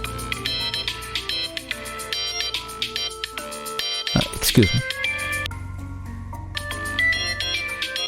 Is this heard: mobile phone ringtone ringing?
yes